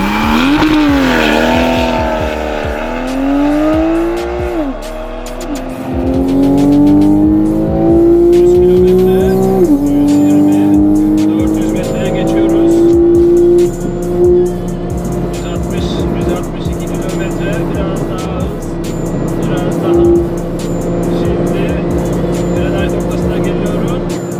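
A Porsche 911 Carrera 4 and a Mercedes-AMG A45 drag race, engines loud and close, revving hard and climbing through several upshifts as they accelerate away.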